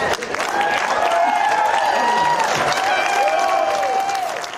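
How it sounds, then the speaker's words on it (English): A political rally crowd cheers and applauds, a dense sustained roar of clapping with whoops and shouts rising over it, heard close and loud throughout. "Big cheers from the crowd there."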